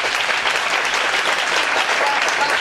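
Dense, steady applause from a church congregation fills the whole span, loud and continuous with no break.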